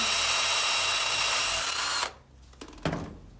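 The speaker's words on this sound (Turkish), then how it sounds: "Bunu deliyorum. Sonra burada bir tane var. Burayı deliyorum." An electric drill runs at a loud, steady whine for about two seconds, then stops, followed by a couple of short clunks and a brief burst as it is repositioned.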